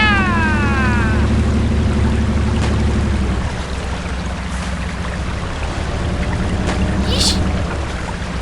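In the video game Spintires MudRunner, a truck ploughs through an entire river. A steady engine drone climbs briefly in pitch at the start over a constant loud wash of churning water.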